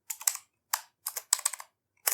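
Computer keyboard typing by hand while writing C++ code, in short clustered bursts of clicky keystrokes separated by brief pauses, close and fairly quiet, with no talking.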